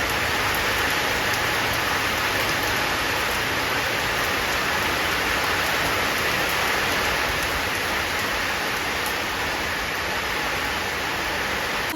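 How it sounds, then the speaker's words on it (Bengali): Heavy rain pours down on a rainy day, a dense, steady hiss of drops that stays loud and unbroken throughout, with no voices. "খুব জোরে জোরে বৃষ্টি হচ্ছে"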